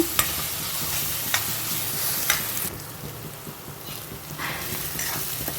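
Ginger garlic paste sizzles steadily in a hot pan for a bottle gourd kola gravy, with scraping stirs and a few sharp clinks of the spoon over the frying hiss.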